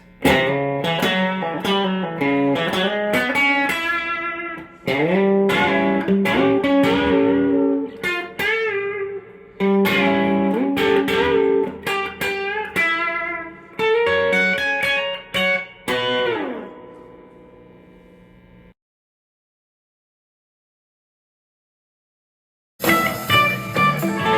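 An electric guitar plays a tune in a lesson, with quick, bright picked notes and short phrases for about eighteen seconds. Silence follows for several seconds before the playing starts again briefly.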